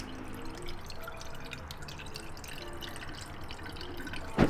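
Coolant pours into the radiator of a Yamaha R1 motorcycle during a rebuild, a steady close trickle of liquid with faint dripping throughout and a brief louder splash at the end.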